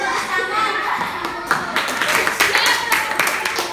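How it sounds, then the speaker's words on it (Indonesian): Children in a fifth-grade classroom clap their hands together, a ragged burst of individual sharp claps that builds into uneven group clapping, with a teacher's voice and young voices around it. "Tepuk tangan."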